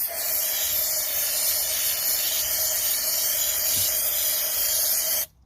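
Parts cleaner sprays out during a Ford Ranger fuel filter change, a steady close hiss with a faint tone running underneath that cuts off abruptly at the end.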